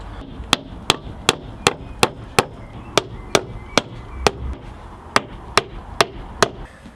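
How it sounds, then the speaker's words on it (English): Sharp, evenly spaced hammer blows on a wooden batten clamping polythene on a polytunnel, about fifteen strikes in quick steady rhythm, close and loud with no talking. "then we hammer another one of these below it to clamp the polythene down"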